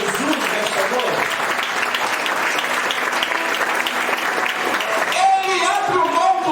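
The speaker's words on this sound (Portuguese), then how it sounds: "Você pode aplaudir a Jesus nesta noite?" A church congregation applauds for Jesus during an evening service, dense sustained clapping filling the room throughout, with voices and a brief musical tone rising near the end.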